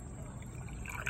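A wild hog skull is lowered slowly into water for dip painting, giving soft, steady liquid swishing and trickling up close, with a brief splashy rise near the end.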